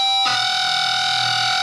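Electric guitar natural harmonics ring out as bright, bell-like tones through effects and distortion, starting abruptly and sustaining loudly and evenly to the end.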